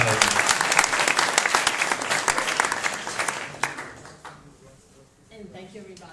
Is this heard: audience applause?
yes